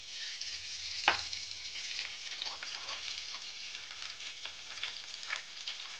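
Bitter gourd fries in oil in a wok, making a soft, steady sizzle with one sharp utensil clank near the start and faint stirring taps afterward.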